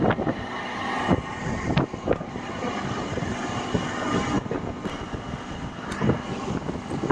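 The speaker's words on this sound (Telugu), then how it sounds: "జనగం స్టేషన్కి మన ట్రైన్ చేరుకుంది" A MEMU train pulls into Jangaon station, its carriages rumbling and clattering in uneven bursts with wind buffeting the microphone, close and steady throughout.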